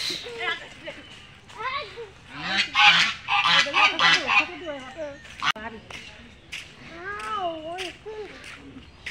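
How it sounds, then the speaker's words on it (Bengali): Domestic geese honk repeatedly at close range, a run of loud nasal calls bunched in the middle, with children's voices and other talk mixed throughout. "এই যে হচ্ছে রাজহাঁস"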